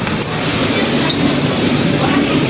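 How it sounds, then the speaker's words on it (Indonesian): Steady loud rumble and hiss of a metro train running in China, constant noise throughout with faint rattling. "Aku siap-siap mau ganti kereta dulu."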